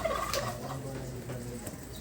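Farm turkeys gobbling in a quick burst near the start, followed by softer fowl chatter and low background noise from the flock kept for morning feeding.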